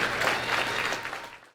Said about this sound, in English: let's give everybody the Booster Club a round of applause